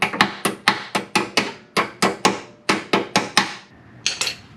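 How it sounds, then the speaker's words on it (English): Sharp strikes of a small hammer in a steady run of about fifteen blows, close and fairly loud, with a brief pause before a final few taps, while fitting Acura TL Type S Brembo brakes to a 9th-generation Honda Civic. "My little hammer."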